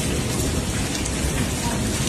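Heavy rain mixed with falling hail during a cold storm, a dense, steady roar of drops and pellets hammering surfaces close by, with no pause and no voices.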